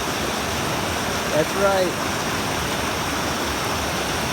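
A river flows steadily, broad rushing water noise filling the clip at an even level, with a brief spoken remark near the middle.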